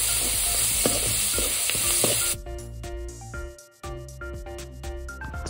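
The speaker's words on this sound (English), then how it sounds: "saute it until the onion turns brown in color" About four salted onions sauté in a pan until browning, the start of a mutton masala: steady sizzle with spatula scrapes and taps for a couple of seconds, then the frying fades under a tonal musical bed.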